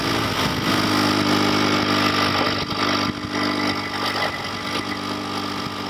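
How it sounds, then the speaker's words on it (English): The engine of a Honda Civic Type R FL5 idles steadily during a coolant exchange, a continuous mid-pitched hum with a fairly even rumble and no talking. "So we're going to go ahead and fire the car up right now."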